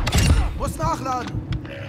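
A gun is reloaded in Call of Duty: Modern Warfare II multiplayer, giving a short burst of metallic clicks and clacks at the start, then a voice talks over quieter game sound.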